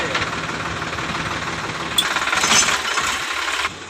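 A farm tractor engine runs steadily nearby, a continuous mid-pitched mechanical drone that swells slightly louder partway through, with no talk over it.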